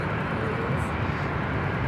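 Condor Airbus A330neo jet departing LAX, a loud, steady broadband engine roar filling the short stretch with no talking.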